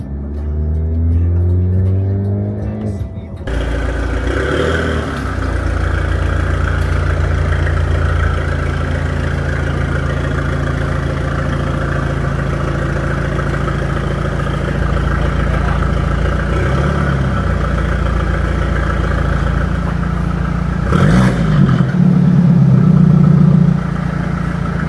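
A 2021 BMW 420i M Sport engine hums steadily and loudly while driving, a continuous low drone with slight swells, brief opening rumble before settling in.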